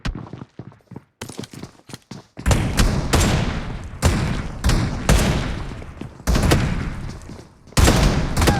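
Video game gunfire comes in bursts of loud, close shots and thumps, with a quieter patch of sparse pops at the start and repeated heavy volleys afterward.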